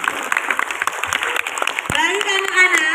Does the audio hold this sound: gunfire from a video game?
no